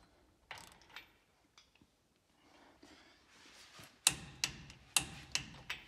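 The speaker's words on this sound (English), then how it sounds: "we're gonna go ahead and take a torque wrench here, tighten these down to 50 foot-pounds." A ratcheting torque wrench tightens bolts on a Dana 50 TTB front axle of an OBS Ford, with a few soft clicks early, then sharp, close metallic ratchet clicks in quick bursts toward the end.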